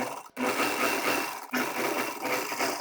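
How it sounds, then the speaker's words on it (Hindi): A sewing machine stitches lehenga fabric for a child's party-wear lehenga choli, a close, steady whirring run broken by two brief stops before it starts again. "अब यहाँ पर सिलाई लगा देना है"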